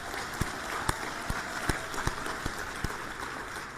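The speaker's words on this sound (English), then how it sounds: "Would you join me in giving him a round of applause?" Applause from an audience at a global forum on optimism, a steady wash of clapping with a few sharper claps standing out, heard continuously throughout.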